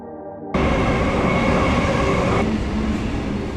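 Sydney suburban train heading into the city centre at Town Hall, a steady rumbling roar of the moving carriage starting abruptly after a brief quiet moment, loud and continuous with a faint wheel whine.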